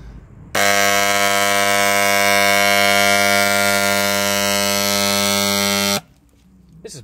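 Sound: paint sprayer motor running after repair

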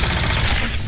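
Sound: proton cannon attack in Marvel vs Capcom Infinite video game

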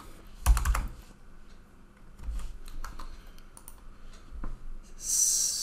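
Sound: typing a command on a computer keyboard

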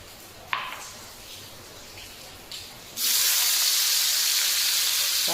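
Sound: onion frying in hot oil

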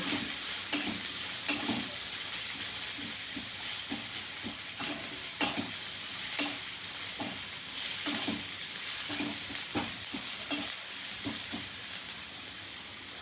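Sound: frying onions with turmeric and cumin powder in a pan

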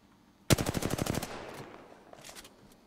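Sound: gunfire in a video game shootout

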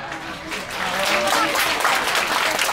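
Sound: audience applause on cruise ship

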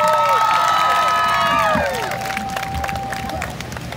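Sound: audience cheering and applause for Derek

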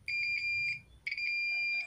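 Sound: continuity tester buzzer sounding on short circuit

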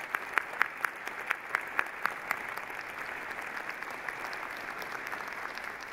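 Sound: applause

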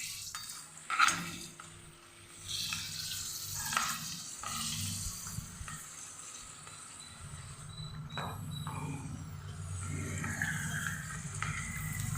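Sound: frying dried nagli (ragi) papad in oil

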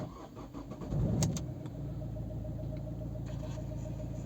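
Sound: Opel Zafira 1.7 diesel engine starting

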